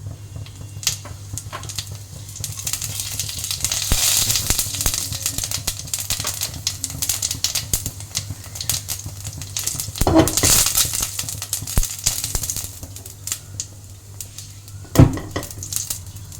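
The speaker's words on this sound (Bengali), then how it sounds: "এবার আমি এই পলার এক পলা তেল দিলাম পাঁচ ফোড়নটা দিয়ে দিলাম" Panch phoron seeds in hot oil in a pan for a ridge gourd and fish curry crackle in a continuous close sizzle, with utensil clinks and scraping now and then and no voices.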